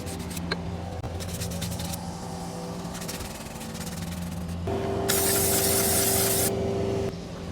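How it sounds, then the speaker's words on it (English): Brake cleaner sprayed from an aerosol can onto a wheel hub mounting surface on a Nissan Juke, a loud steady hiss lasting about two seconds after quieter workshop noise. "Then try to spray some brake cleaner as well."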